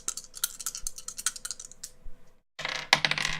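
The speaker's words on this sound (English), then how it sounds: "roll the percentage dice" Percentage dice rolled for a Pathfinder game make rapid, close clattering clicks and rattles that stop in a brief silent gap, then return as a sharper burst of tumbling.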